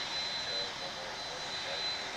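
A Boeing 767 taxiing at Dallas/Fort Worth airport gives off a steady jet engine rumble with a thin high whine, heard at moderate distance for a couple of seconds, while a voice talks over it.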